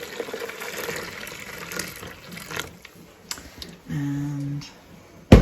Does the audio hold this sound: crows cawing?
no